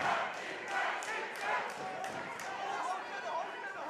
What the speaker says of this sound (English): Listen to the atmosphere here at the Melbourne Pavilion